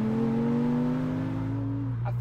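A 400bhp Porsche 914 restomod with a manual gearbox accelerating hard, its engine note rising steadily and loudly from close by before easing off, with a voice underneath.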